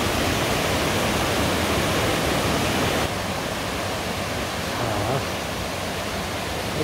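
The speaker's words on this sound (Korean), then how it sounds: "물소리가 엄청납니다." Biryong Falls on Seoraksan gives a loud, steady rushing roar of falling water that fills the whole stretch, easing slightly partway through, with no voices over it.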